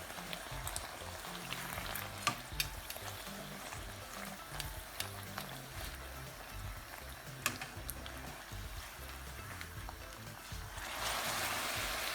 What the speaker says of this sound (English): Since the oil is already hot, I'm gonna start frying our buñuelos.